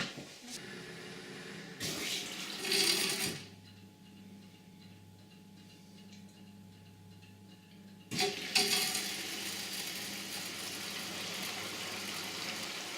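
Water splashes and churns inside a Bosch dishwasher (type SM6P1B), pausing into a low steady hum for several seconds before the spraying resumes.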